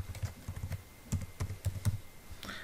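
Login details typed on a computer keyboard: close, distinct key taps in uneven small groups with short gaps, no talking.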